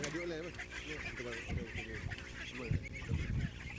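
Farmed ducks on a poultry farm in Banda Aceh, Indonesia, quack and honk in repeated nasal bursts, close and fairly loud, while a person talks over them.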